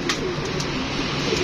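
Pigeons on a rooftop, including Rampuri breeder pigeons, cooing softly in low murmuring calls over a steady background hiss, fairly close, with no voices.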